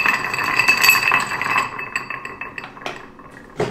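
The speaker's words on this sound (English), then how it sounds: "We prepare the ice for our glass. Chilling a bit the glass." Ice clinking and rattling against a cocktail glass while chilling it, a run of bright glassy clinks that thin out into scattered taps, ending with one sharper knock, close and alone.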